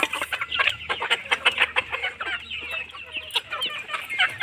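Layer hens cluck and chatter busily while pecking at a feed of khichuri, a rice and wheat mix, with dense overlapping calls close by and no voices.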